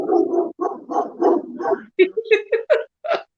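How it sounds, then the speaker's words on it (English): A dog gives a run of short, sharp barks in quick succession, close and fairly loud, after a stretch of people talking. "that's when he initially barks"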